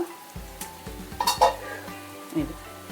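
Sarva pindi, a Telangana-style rice flour flatbread, roasting on a pan, with sizzling and a few scraping, clattering strokes rising over a low steady hum; the loudest burst comes near the middle.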